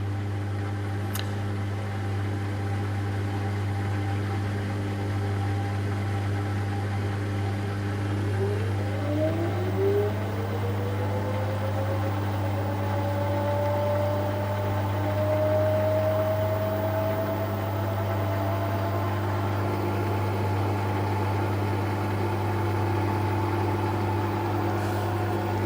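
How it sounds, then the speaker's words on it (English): An LG WM14225FD direct drive washing machine running with slight bearing wear, a steady low hum with a rising whine as the drum speeds up, alone and close. "I can hear a little tiny bit of bearing wear noise on there now"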